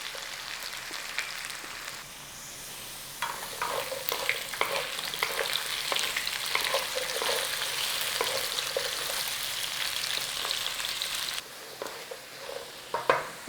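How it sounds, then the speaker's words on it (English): Bacon hash with onion sizzles steadily in a frying pan, a close, continuous crackle with scattered pops and occasional scraping stirs, briefly quieter at the start and near the end. "we're going to keep cooking, obviously, in there with some onion"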